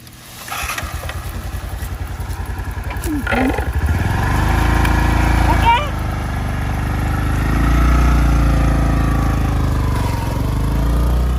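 A motorcycle engine starts up and settles into a loud, steady running rumble close by, with brief mechanical clatter before it catches and a voice speaking over it.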